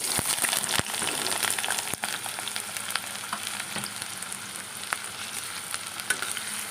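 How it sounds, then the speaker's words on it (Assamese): Chopped onions sizzle and fry in hot oil in a wok, a steady loud crackling hiss with occasional stirring clatter, no talking. "এতিয়া কাটি থোৱা পিঁয়াজখিনি মই ইয়াত তেলত দি দিছোঁ"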